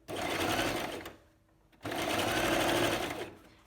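A sewing machine stitching a neckline facing: two steady whirring runs of fast needle motor noise with a brief pause between, close and fairly loud.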